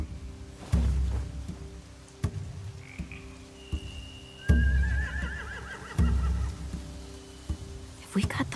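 Horses whinny and snort in The Walking Dead video game, with a couple of rising neighs breaking through a low, thumping game soundscape of heavy repeated booms and ambient tones; no one speaks.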